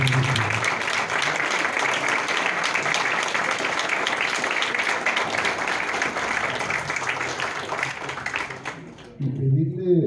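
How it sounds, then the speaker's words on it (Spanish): An audience at a public dialogue forum gives the panelists a strong round of applause, dense steady clapping that holds for about nine seconds before cutting off, with a voice starting up at the end. "quisiera yo pedirles un fuerte aplauso"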